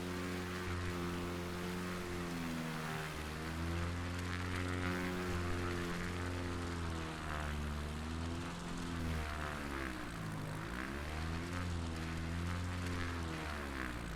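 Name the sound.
American Champion Super Decathlon propeller engine from a video game flight simulator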